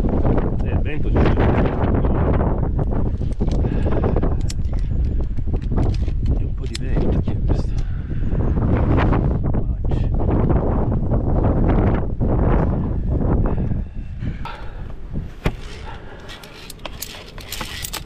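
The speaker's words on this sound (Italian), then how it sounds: "Il vento c'è." Strong wind buffets the microphone on a via ferrata climbing route, loud rumbling gusts that ease off toward the end.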